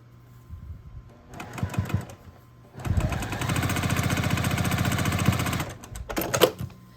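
A sewing machine joins two quilt block pieces for a scrappy sampler center, with short bursts of stitching leading into one long steady run of rapid mechanical chatter and a final brief burst, close and alone.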